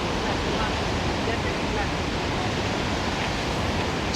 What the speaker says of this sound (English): you can see that waterfall gushing behind me